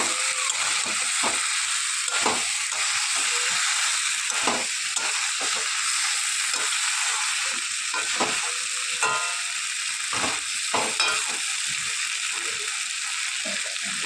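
Figs stir-fried in a pan, with a continuous close sizzle and hiss and repeated scraping stirs throughout, and brief speech in places.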